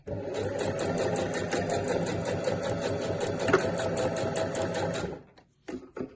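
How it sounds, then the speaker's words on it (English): A sewing machine fitted with a size 100 jeans needle stitches a weekender bag handle forward and back along a diagonal line. It whirs loudly and continuously, stops, then gives one short final burst. "I'm going to sew a diagonal line here, and I'm just going to go forward and back over it"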